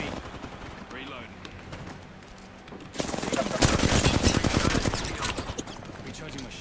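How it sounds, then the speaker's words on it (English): Enemy gunfire in Apex Legends, with a quieter stretch of scattered sounds giving way to a loud, rapid burst of automatic fire that continues for several seconds, while a voice talks over it. "The enemies are shooting at me."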